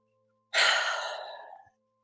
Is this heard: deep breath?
yes